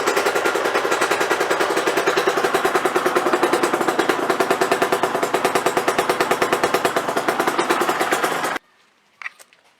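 An Aprilia RS 125 two-stroke engine runs after a top-end rebuild, with a loud, rapid, steady crackling pulse that holds for about eight seconds. It then cuts off abruptly, leaving a faint clunk in the quiet.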